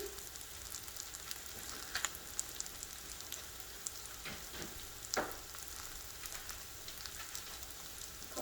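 Pork and caramelizing onions fry in a pan with a soft, continuous sizzle, broken by a few light stirring scrapes and clinks; quiet and close, with no talking.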